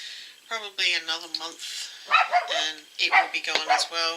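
Dog barking indoors, a few sharp barks and yips in short bursts scattered through the moment, fairly close, overlapping someone talking.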